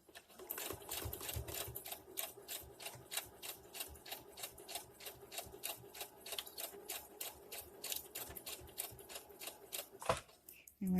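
A sewing machine stitches back and forth on a dress being refashioned, a fast steady run of needle clicks that continues for about ten seconds before stopping, with a thud at the end.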